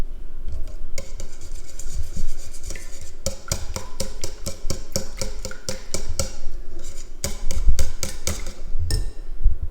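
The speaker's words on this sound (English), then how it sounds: "4 or 5 eggs for 500 mils of cream. Yeah, 5 eggs. And then just give it a whisk." Five eggs and 500 ml of cream get whisked together in a bowl, giving fast, rhythmic clinking and tapping of the whisk against the bowl, close and steady throughout.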